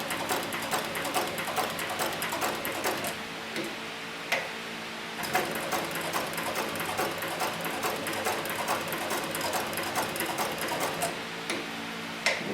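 A cheap leather sewing machine stitches leather in a steady, close-up run of rapid ticking needle strokes, pausing briefly about a third of the way through before resuming its even rhythm.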